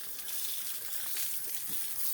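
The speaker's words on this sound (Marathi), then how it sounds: "आता माझा पुतण्या सचिन हा पाणी मारतो." Water sprays steadily onto fresh wall plaster to cure it, making a close, continuous hissing gush without pauses and with no voices.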